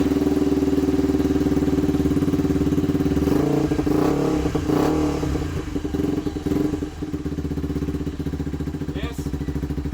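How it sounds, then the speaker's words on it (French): A Kymco scooter engine with its emission control system removed idles steadily and loudly up close. The puttering is even, with a brief rise and some clatter partway through. "Le ralenti est stable."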